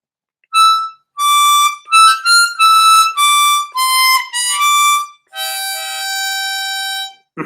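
A diatonic harmonica plays a short melody of separate breathy reedy notes, ending on a longer held tone, clear and close with no talking.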